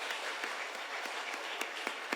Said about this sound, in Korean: 우리 다 같이 하나님께 영광의 박수로 찬양 올리겠습니다